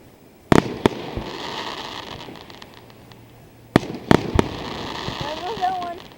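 Sharp, loud fireworks bangs at the 2011 Ambler fireworks display, scattered single booms and a quick double burst with crackling between, over a murmuring crowd and nearby talk.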